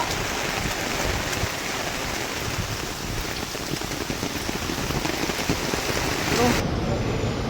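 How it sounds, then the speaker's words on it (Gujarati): Heavy rain pours down steadily outdoors, a dense, close, unbroken hiss of drops striking surfaces, with faint voices beneath it before the sound cuts off near the end. "વરસાદ ફૂલ પડે છે."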